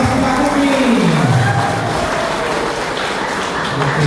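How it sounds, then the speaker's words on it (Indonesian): Audience applause at a Sukabumi city anniversary event, steady clapping over the whole stretch, mixed with a loud voice that rises and falls across the crowd noise. "tepuk tangan buat GKPS Kota Sukabumi"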